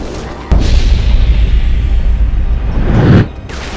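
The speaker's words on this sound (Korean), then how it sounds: "삽으로 땅을 내리찍고 흔들어 일정 범위 안에 강력한 폭발을 일으킵니다" A shovel slams into the ground in Pirates: Treasure Hunter and sets off a powerful area explosion: a sudden loud boom that rolls on as a sustained rumble, swelling again near the end before cutting off, with no voices.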